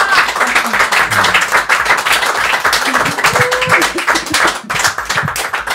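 Applause from a studio audience after a live Studio K session performance, loud and close, with brisk dense clapping running throughout and a few faint voices and cheers mixed in.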